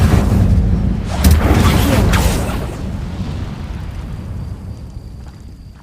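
The Incendio fire spell is cast in Hogwarts Legacy, producing a loud, roaring burst of flame with heavy low rumble that slowly decays into a fading crackle.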